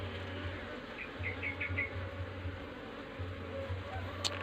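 Healthy honey bees humming at a hive, a continuous low drone of wingbeats with a few sharper passing buzzes close by.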